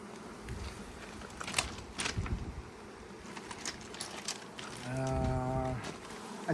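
Steady buzzing of many honeybees close by around a hive frame being moved into a nucleus box, with light rustling and clicking, then a brief tonal hum near the end.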